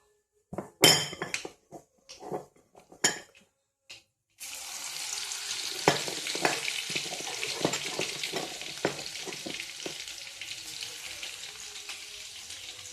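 Garlic hits hot oil with mustard seeds and cumin and starts a steady, close sizzle, after a few sharp clinks of utensils against a pan.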